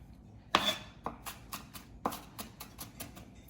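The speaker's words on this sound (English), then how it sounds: "And you can just chop it into small pieces." A knife chops carrot into small pieces on a board for a vegan carrot stir fry with coconut. About a dozen crisp, close knocks come in an uneven rhythm, and the first strike is the loudest.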